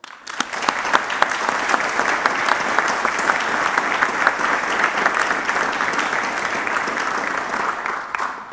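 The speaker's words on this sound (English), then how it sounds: "I think they actually require a big applause." Big audience applause for the organizers at the close of a Nordic army summit, a dense, steady wash of clapping from a crowded hall lasting several seconds without talk.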